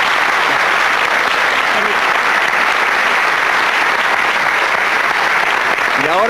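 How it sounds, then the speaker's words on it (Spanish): Loud, continuous studio audience applause on a tango television program, a dense wash of clapping filling the whole stretch, with a faint voice rising near the end. "Los despedimos con un aplauso a Roland y a Marín"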